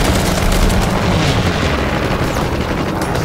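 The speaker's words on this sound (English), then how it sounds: "And we have another airstrike as well." An airstrike blasts in the World War II shooter Call of Duty WW2, a loud, continuous rumbling roar of explosions filling the whole stretch without a break.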